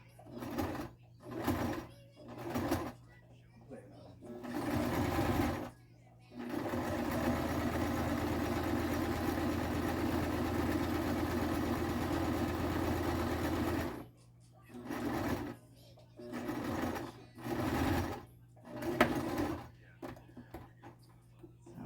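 A sewing machine stitches a chin strap for a hat, running in short start-stop bursts, then one long steady run of about eight seconds, then more brief bursts, with quiet talk between runs.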